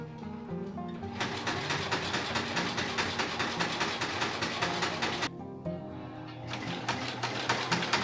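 Sewing machine stitching scrap fabric for a pennant banner, a steady rapid whirring run that stops briefly near the five-second mark and then resumes, close and loud.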